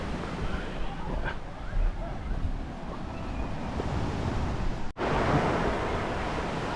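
Ocean waves break on the shore at Tahi Beach Resort in Guimaras, Philippines, a steady broad roar of surf mixed with wind buffeting the microphone, with a brief dropout near the end.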